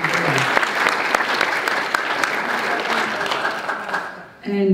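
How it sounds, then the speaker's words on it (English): An audience gives a full, dense round of applause at an event, sustained and loud, cutting off near the end as a voice begins to speak. "A round of applause for the Churches of Christ."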